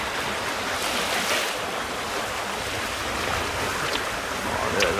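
Choppy sea washes around a sailing boat off the Whitsunday Islands, a constant broadband wash of water and wind rushing close to the microphone with no distinct breaks, and no speech.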